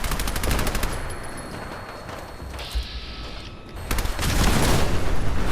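Rapid automatic gunfire from a weapon in the video game Fallout 4 rattles in dense repeated bursts, loud and close, easing briefly mid-stretch before swelling again toward the end.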